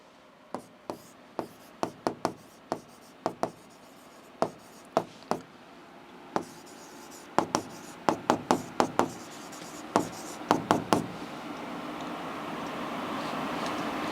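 Pen writing on paper while working through trigonometric identities, heard as a run of sharp, close scratchy strokes and taps at an uneven pace, growing busier toward the end, with no talk over it.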